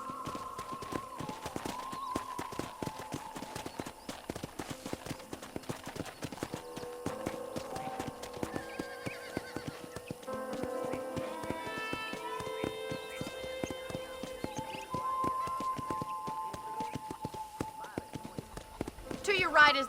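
Horse hooves clip-clop steadily through a Red Dead Redemption ranch ride, a continuous rhythmic patter under game music and spoken dialogue, with an occasional whinny.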